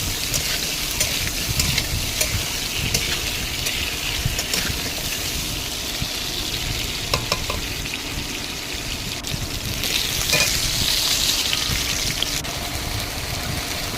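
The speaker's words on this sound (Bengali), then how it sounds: "তারপরে আলুগুলোকে ভালো করে ভেজে নিলাম।" Potatoes fry in oil in a pan with a loud, dense sizzle and crackle that carries on unbroken, and a few brief spoon clinks sit on top of it.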